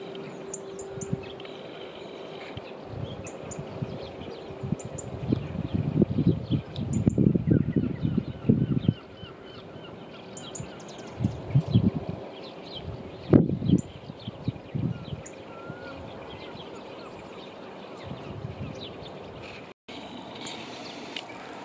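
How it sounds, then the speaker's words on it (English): Early morning birdsong at Rhos-on-Sea, Wales, with scattered chirps and calls drifting in from a distance over a quiet background, broken by bursts of nearby rustling and bumps. "But listen to all the bird song."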